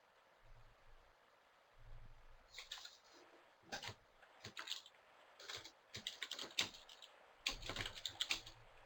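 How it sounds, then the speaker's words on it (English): Keystrokes clatter on a computer keyboard in irregular bursts, some rapid runs and isolated clicks, fairly close and quiet, with no talking and a faint low hum early on. "Although I do hear you typing."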